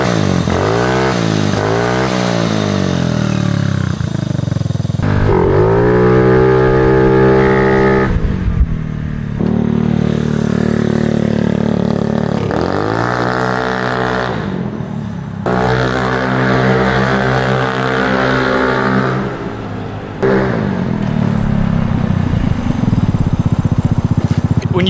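Yamaha Zuma 50F 50cc scooter fitted with a Two Brothers Racing exhaust, running and revving repeatedly, with loud rising and falling engine notes close to the microphone.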